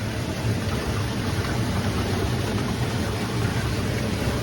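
Heavy rainstorm pouring onto Hoya plants outdoors, a dense, steady wash of rain that stays loud and unbroken throughout, with no talking.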